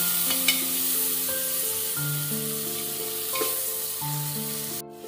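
Garam masala, cumin and chopped tomatoes fry in a pan with a steady, loud sizzle and occasional stirring. Tonal background music plays underneath throughout.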